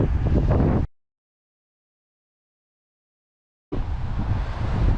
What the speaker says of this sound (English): If it's really windy like this